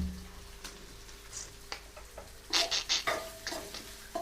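Chilli powder is stirred into a fish curry in a pan, with soft scraping and a run of metallic spoon taps against the pot over a faint sizzle.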